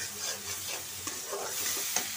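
Spice paste frying in oil for a potol and katla fish curry: soft, steady sizzling with a few faint spatula scrapes and taps, quiet and close, with no voices.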